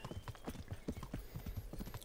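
Horse hooves clip-clop at a steady walking rhythm in the medieval role-playing game Kingdom Come: Deliverance, close and distinct throughout, with no talk over them.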